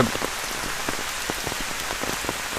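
Steady rain pours down, drops pattering densely on a hard surface with a constant hiss, close and fairly loud, no voices.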